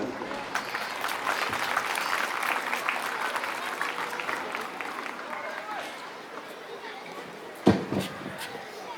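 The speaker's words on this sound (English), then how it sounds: "let us all clap our hands for our committed teachers" An audience at an annual sports meet closing ceremony claps for the teachers, a dense, steady wash of applause that holds for several seconds before thinning out, with a sharp knock near the end.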